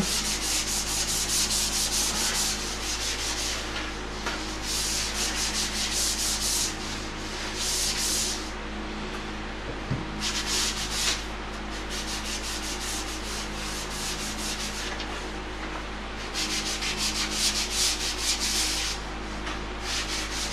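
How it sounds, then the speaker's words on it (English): Abrasive pad scuff-sanding sprayed sealer on a custom birch vanity in a woodworking shop, a steady rasping rub in repeated strokes with brief pauses, close and loud, no talking. "we're just gonna scuff the sealer up really good"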